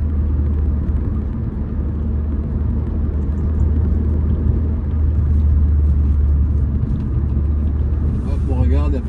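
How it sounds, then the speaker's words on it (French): Modified Volkswagen car exhaust producing a steady, loud, low rumble that holds nearly constant throughout, with a slight swell toward the end. "ça sonne un peu plus fort. Et pourtant, je n'ai pas plus modifié que ça au niveau de l'échappement."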